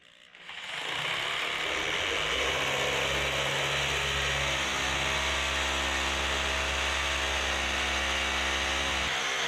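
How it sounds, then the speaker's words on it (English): A power drill bores down into a concrete slab to anchor kitchen island cabinets: after a brief quiet start, a loud, steady grinding whir runs unbroken to the end. "I'm about to drill down into the slab and anchor these island cabinets"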